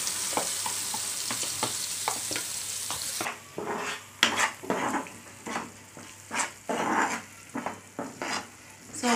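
Ground green chili pickle is stirred in a hot pan with curry leaves, giving repeated scraping strokes over a frying sizzle, close and fairly quiet, with no talking.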